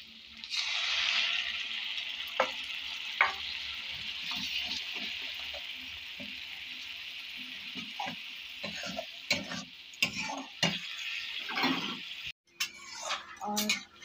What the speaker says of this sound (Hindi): टमाटर मेरा फ्राई होने में थोड़ी देर लेट लगेगा।